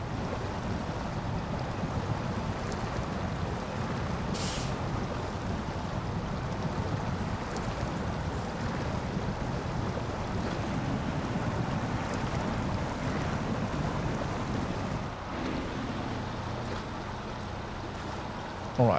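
A Paystar 5600TS truck in SnowRunner spins its wheels in mud, giving a loud, steady churning and rumbling roar that runs without a break, with no talking over it.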